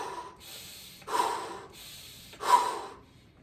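Quick rhythmic breathwork breathing, one count in and one count out, with sharp forceful breaths through the nose sounding close and clear in a short repeating pattern, no talking.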